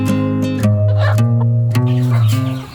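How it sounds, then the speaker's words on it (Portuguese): Hens murmur and cluck close by in a backyard flock taking dust baths, low steady chatter with a few sharper clucks breaking through, no talk. "olha aí as penosas"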